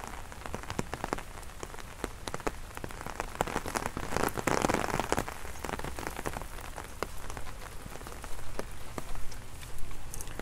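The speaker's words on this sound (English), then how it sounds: "And it's raining." Steady rain pattering on a hard surface at a wild car campsite in India, with dense drops falling throughout, fairly close and even in loudness.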